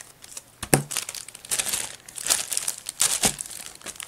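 Plastic packaging from a holographic gem jewelry unboxing crinkles and tears sharply as it is cut open, with several loud close-up rustling bursts.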